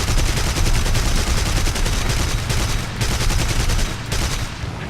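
Rapid, sustained aircraft cannon fire from a German warplane in the War Thunder video game, a dense rattling burst that continues loudly for several seconds before tapering slightly.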